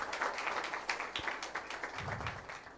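An audience at a ghazal evening gives faint, fairly even applause, steady clapping heard from a distance for a few seconds.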